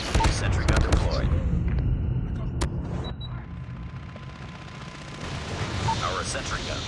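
Sentry gun in a Call of Duty-style multiplayer video game firing in sharp rapid bursts, mixed with other gunfire and explosions, the shots dense at first and then thinning under a steady rumbling backdrop.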